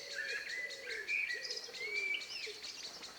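Birdsong with varied high chirps, whistles and trills repeating over a soft background hiss, fairly faint and distant, with no voices.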